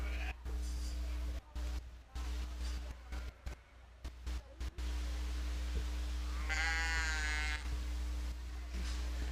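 Sheep bleat at a youth sheep market show, a clear wavering cry arriving about two-thirds of the way through, over a steady mechanical hum and broken bursts of room noise.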